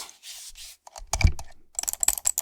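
Close, sharp clicks in quick bursts, like a computer mouse being clicked, with soft ratcheting that fits a scroll wheel, alone in a quiet room.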